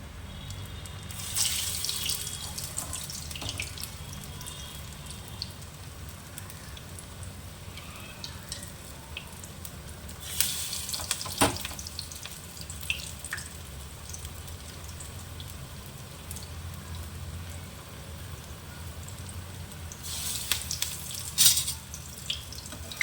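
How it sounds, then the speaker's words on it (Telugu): Onions frying in oil for Telugu-style vadas (garelu): a steady sizzling hiss runs throughout, with louder crackling bursts near the start, around the middle and toward the end, and no talking. "ఉల్లిపాయలు అవి కొంచెం ఎర్రగా వేగినట్టు అయితేనే టేస్ట్ వస్తుంది"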